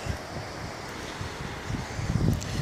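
Sea waves washing below an old abandoned British castle at dusk, with steady wind buffeting the microphone and low rumbling surges, no talking.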